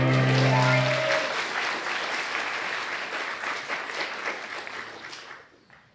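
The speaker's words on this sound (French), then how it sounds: "merci beaucoup pour vos applaudissements" An audience at a live French comedy stage show breaks into warm, sustained applause as a brief tonal sound fades out, the clapping holding steady before tapering off near the end.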